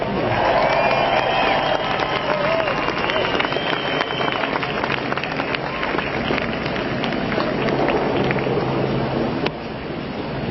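At a climate protest in London, a crowd applauds and cheers loudly, dense clapping mixed with shouts and whistles that stays strong before easing slightly at the end.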